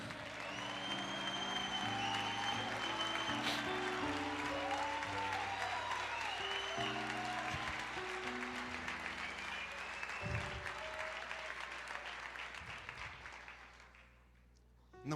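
A church congregation applauds during a Portuguese-language sermon, with steady, sustained clapping beneath soft organ or keyboard chords before it fades out near the end.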